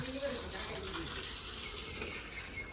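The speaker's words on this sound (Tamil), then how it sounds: "நான் தண்ணி விடுறேன் நீ கழுவு" Water pouring in a steady, close gush for washing after cooking, a continuous splashing flow with faint voices in the background.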